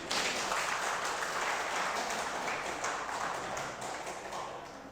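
Applause fills a church service, a steady wash of many hands clapping at moderate distance that holds evenly, then gradually softens toward the end without any clear voice above it.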